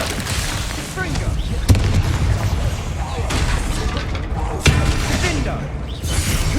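Rapid fiery spell blasts and bursts from Confringo casting in Hogwarts Legacy, a dense, loud barrage of crackling booms with two sharper impacts standing out, continuing without pause over a rumbling battle backdrop.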